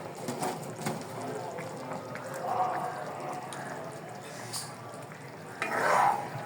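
A spoon scrapes and stirs chicken curry in a pan, with a soft steady sizzle and a couple of louder stirring bursts, moderately close.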